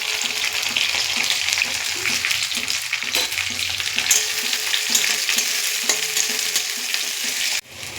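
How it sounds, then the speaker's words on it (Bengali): Curry leaves and chopped onion frying in plenty of oil in a wok, a loud continuous sizzle with spatula stirring strokes throughout, dropping slightly at the very end. "প্রথমে কড়াইয়ে তেল দিয়ে দিলাম, বেশ খানিকটা তেল দেব। এবার দেব কারি পাতা ফোড়ন, তারপরে দেবো পেঁয়াজ কুচি।"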